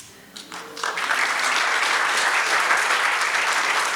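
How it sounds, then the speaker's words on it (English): A crowd at a lecture event breaks into applause after a brief quieter moment, swelling quickly into loud, sustained, dense clapping that holds steady to the end. "No, you didn't clap loud enough."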